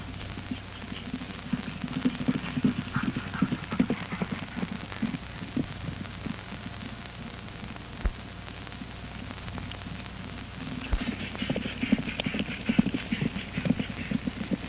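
Horse hooves clip-clop in a busy, uneven rhythm as several horses ride away at once, with a gritty background wash throughout.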